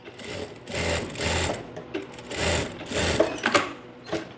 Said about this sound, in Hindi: बिल्कुल इस लाइन पे हम एक स्टिच डाल देंगे।